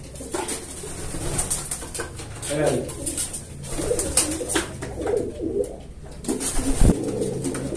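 Pigeons cooing among a flock of stock birds kept in a loft, a soft repeated murmur of calls running steadily throughout, with someone talking intermittently over them.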